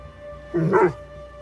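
A dog in the Assassin's Creed Shadows video game gives a single short bark or yip, close and clear over a steady game ambience with low tonal hum.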